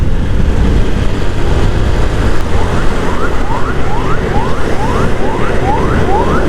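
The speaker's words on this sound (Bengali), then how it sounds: "অ্যাম্বুলেন্সটা খুবই ইমার্জেন্সি মনে হইতেছে, সাইড দিয়ে দেওয়া উচিত।" An ambulance on a Chittagong highway sounds a repeating rising wail that starts partway through, heard from a moving motorcycle over loud, steady wind and engine roar.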